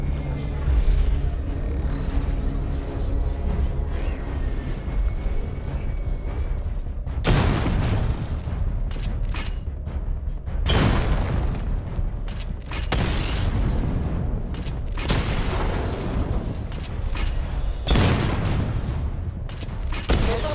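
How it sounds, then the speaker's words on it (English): Heavy missile barrage explosions from Batman: Arkham Knight fire in repeated loud booming volleys, several thunderous bursts separated by brief lulls, with a low rumbling drone running underneath. "Destroy targets to charge up weapon energy and activate missile barrage."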